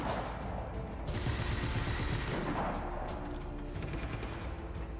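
Gunfire in Just Cause 3, rapid bursts of automatic shots crackling continuously and loudly, dense and overlapping with some distant reports.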